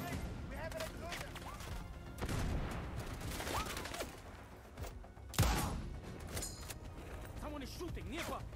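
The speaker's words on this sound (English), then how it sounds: "Someone is shooting nearby." Gunfire crackles nearby in Sniper Ghost Warrior Contracts 2, a run of sharp, repeated shots and mechanical clatter with one heavier report, partly under talking voices.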